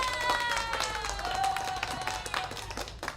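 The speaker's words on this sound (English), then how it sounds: "And here's a virtual applause for all of you." Virtual applause plays as a steady wash of many hands clapping, fairly loud and continuous for a few seconds, with a voice briefly audible underneath.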